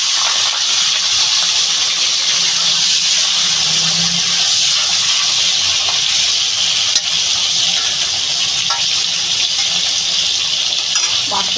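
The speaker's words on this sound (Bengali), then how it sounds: "তেলটা আমার গরম হয়ে গেছে। তো আমি এই মাছগুলো সম্পূর্ণ একসঙ্গে ঢেলে দেবো" Rita fish poured into hot oil for a potato and papaya curry, a loud, continuous, steady sizzle and hiss close by, with faint background voice.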